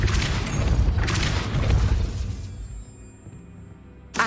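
A Depulso spell impact in a Harry Potter video game, a booming, crashing burst with a shattering edge that fades over a couple of seconds.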